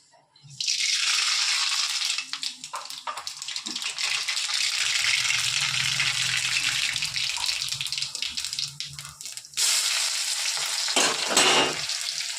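Chopped onion and green chilli sizzle loudly in a hot pan for poha, a steady broadband frying hiss with brief stirring clatters and a short dip near the end before the sizzle resumes.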